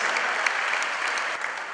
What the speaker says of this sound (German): Ein großer Applaus für beide Konkurrenten